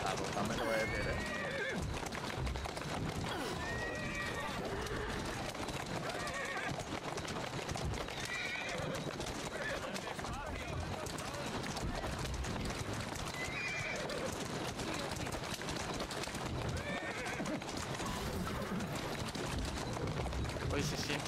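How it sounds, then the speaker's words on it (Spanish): A horse in Assassin's Creed Syndicate clip-clops along with steady hoofbeats and whinnies repeatedly over about twenty seconds, under someone talking throughout. "un caballo lo ha atravesado"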